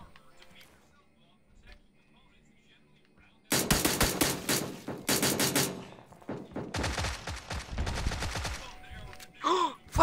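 Rapid automatic SMG fire in PUBG on Xbox: after a quiet start, loud bursts of close gunfire come in clustered volleys with brief gaps, then more spaced shots near the end.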